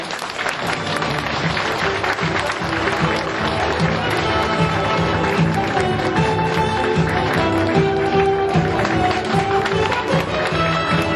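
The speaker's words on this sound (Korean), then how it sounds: "큰 박수 한번 부탁드리겠습니다." An audience at an office opening ceremony in Buk-gu, Busan, bursts into dense, sustained applause, loud and close, with steady clapping running continuously for about eleven seconds with faint voices beneath.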